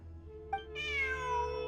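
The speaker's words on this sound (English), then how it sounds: "Look, a cat." A cat in Genshin Impact gives one drawn-out, clear meow after a short squeak, close and alone over a low background hum.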